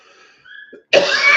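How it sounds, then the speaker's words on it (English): A single sharp, loud cough bursts out near the end of a short, quiet stretch, preceded by faint breathy sounds. It comes from a person with congestive heart failure. "And you have to forgive me with a cough"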